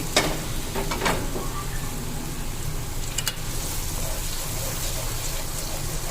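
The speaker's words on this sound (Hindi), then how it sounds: "अब इस तरह करके इसको चलाएंगे ना, ये जो टमाटर है ना ये बिल्कुल ही मसाले की तरह भून जाएंगे" Masala with tomatoes fried for beef paya, a dense steady sizzle close by with a few clinks of stirring near the start and a sharp knock around the middle, with no talking.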